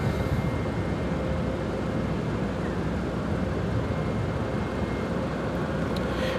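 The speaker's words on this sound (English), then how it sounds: "This arrival is American Airlines Flight 91 coming in from London Heathrow on the 787-9 Dreamliner." An American Airlines Boeing 787-9 Dreamliner arrives at Chicago O'Hare from London Heathrow, heard as a steady, distant, broad jet roar that holds evenly throughout with no voices.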